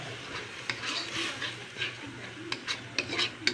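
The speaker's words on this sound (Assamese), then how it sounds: "মিহলি কৰি অকণমান সময় হেতাৰে লৰাই ভাজি থাকিব লাগিব।" Paneer and chickpeas are stir-fried in a wok with a spatula, a soft sizzle under repeated scraping and clinking strokes that grow busier toward the end.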